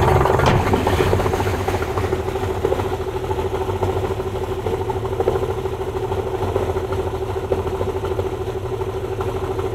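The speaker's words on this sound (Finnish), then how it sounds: "vieläkin käy tyhjäkäyntiä" A Yamaha 70 hp outboard motor on a boat idles at around 700–800 rpm, a steady, close mechanical hum with a light clatter running evenly throughout, with no speech over it.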